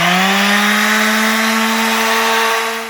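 A drill powered by a Bluetti EB55 power station whines at high speed, a loud steady motor tone rising slightly in pitch, then tapering off as it spins down at the end.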